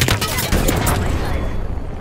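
Bursts of rapid automatic gunfire in a first-person shooter video game, loud and close, crackling continuously at first then tailing off into a fading echo.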